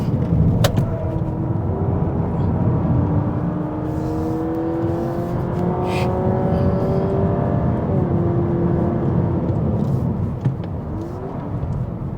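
A Honda Civic RS e-HEV FE climbs Genting Hill with a steady, loud whirring engine and road drone, pitch rising and falling through gear changes and throttle swells, continuous throughout.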